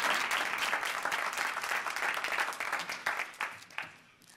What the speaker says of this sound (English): Y'all clap it up for Jasmine Sharp, okay?